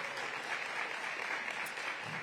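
A crowd applauds ANC commissioners at the opening of the new Anacostia Recreation Center in Ward 8. The clapping is dense, steady and fairly loud, with many hands together for the whole stretch and no voices over it.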